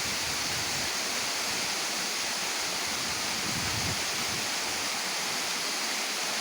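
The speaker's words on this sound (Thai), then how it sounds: "ไหลมาจากข้างบนนู่น สวยงามครับ ตามธรรมชาติครับ น้ำตก บนดอยครับผม" Mountain waterfall pouring down from high above, a steady, loud, unbroken rushing hiss of falling water that fills the whole stretch with no voices.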